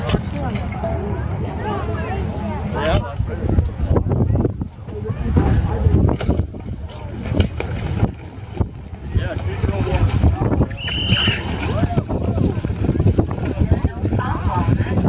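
Percheron draft horses' hooves clip-clop rhythmically on hard ground at an antique engine and tractor show contest in Spring Valley, Minnesota, while several people talk and call out nearby, with crowd noise throughout.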